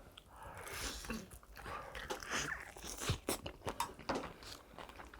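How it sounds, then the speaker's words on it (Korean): Close, crisp crunches of teeth biting into bhc Kwasak King fried chicken with a thick, crispy batter coating, several uneven bites and chews cracking loudly one after another. "그냥 후라이드는 바삭바삭하게 씹히고 화사킹은 바삭바삭하게 씹히네"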